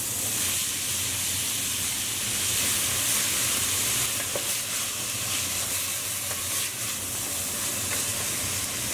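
Onions sizzle in about three tablespoons of hot oil in a small pot, a loud, steady frying hiss that holds for the whole stretch with faint crackles; no talking.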